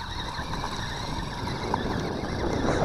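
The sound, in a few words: Xspeed Glory 1:16 4x4 RC rock crawler driving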